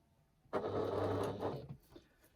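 A sewing machine stitches slowly around a tight semicircle on a fabric key keeper, making one short whirring run of a little over a second after quiet, heard up close and alone.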